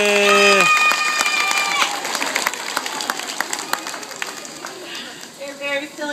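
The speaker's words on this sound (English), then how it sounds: "How about a great big round of applause?" A zoo audience claps and cheers for a parrot at the Dallas Zoo, a dense burst of applause that tapers into scattered claps, with a voice and some bird sounds over it near the start.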